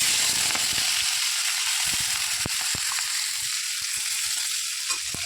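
Crushed green chillies frying in hot oil in a home kitchen pan, making a loud, steady sizzling hiss throughout with occasional sharp clicks and taps of utensils.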